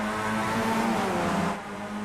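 Race car engines in the iRacing sim at the Nürburgring Grand Prix circuit produce a steady, loud droning roar with a sustained pitch that dips slightly near the end, with no talking.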